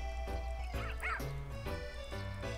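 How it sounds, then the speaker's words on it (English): Dogs in the video game Nintendogs + Cats bark and yip in quick, light bursts over a steady background game music loop, clear and close. "There's another dog!"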